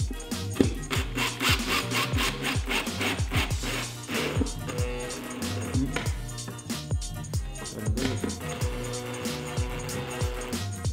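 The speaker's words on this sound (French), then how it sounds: "je vais visser la rotule avec une vis autoforante avec une rondelle large" A power driver sends a self-drilling screw with a wide washer through a ball joint on a homemade teleprompter, producing whining, pitch-shifting motor bursts and grinding over several seconds at close range.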